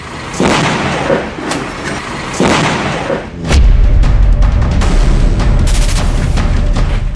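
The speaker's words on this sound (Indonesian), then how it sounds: "tiba-tiba saja mobil tersebut meledak hebat" A car explodes with a loud, deep blast that leaves a heavy rumbling roar, after a couple of earlier thuds and crackling noise.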